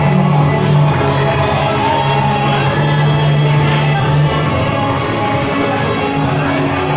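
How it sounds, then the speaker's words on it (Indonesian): Crowd at a company Kartini competition event cheering and shouting in a loud, continuous wash of noise with no clear breaks. "Kita berikan tepuk tangan Bapak Ibu"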